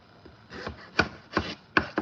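A knife chops food on a cutting board at home, four or five firm, separate strikes landing at an uneven pace, close and clear, with no talking.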